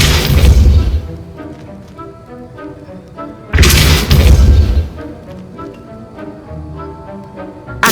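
Two forceful spell blasts from the Depulso push charm in the Hogwarts Legacy video game, each a loud booming whoosh with a bright burst at about 0 and 3.5 seconds, followed by ringing magical shimmer and background game music.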